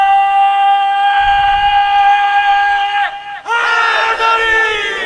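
A religious gathering's crowd shouts a slogan in unison, a loud sustained chant that breaks off briefly before a second, louder collective roar surges in and holds to the end.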